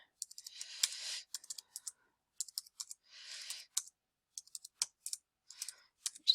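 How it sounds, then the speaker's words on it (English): Typing marks into a computer keyboard and pressing the enter key: quiet, close plastic key clicks in irregular short bursts and single taps, with pauses between entries and no talking. "all I'm doing is I'm entering, typing the marks in and then pressing the enter key"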